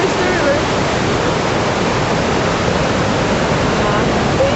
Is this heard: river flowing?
yes